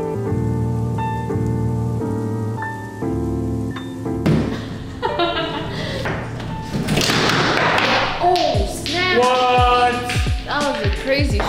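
A game of foosball on a home table, with rapid rattling taps and thumps of the ball and rods building up midway and continuing to the end, mixed with background music and people talking.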